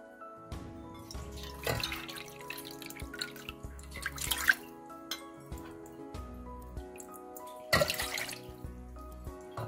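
Water being poured into a cooking pot for homemade Bengali-style boba tea, close up and fairly quiet: splashing and trickling in several bursts, with small clinks of the pot and a soft music bed underneath.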